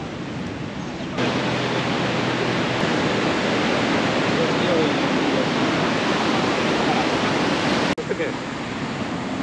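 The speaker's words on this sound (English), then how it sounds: "this is my first time here at Niagara Falls" Niagara Falls gives off a loud, steady broadband roar of thundering water that fills the whole stretch without letting up, with a brief break near the end.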